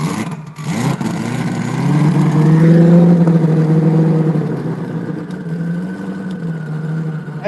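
A car engine revs up and holds a rough, throaty drone before easing back toward idle, close and loud.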